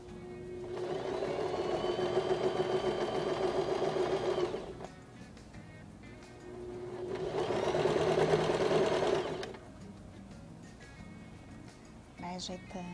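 Sewing machine stitching a multipurpose fabric basket, running in two steady bursts of about four and three seconds separated by a pause, with faint clicks afterward.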